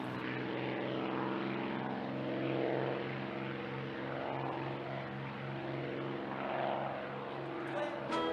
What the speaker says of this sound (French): c'est le P-51 Mustang. Mesdames et messieurs, au décollage.